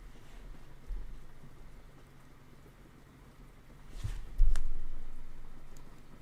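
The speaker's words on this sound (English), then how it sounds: "Can you hear the rain?" Steady rain falling outside, a soft continuous hiss with a louder patter or gust swelling near the end, heard from indoors with no talking.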